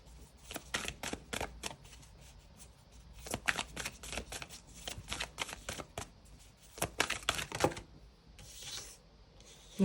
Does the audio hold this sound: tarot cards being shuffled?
yes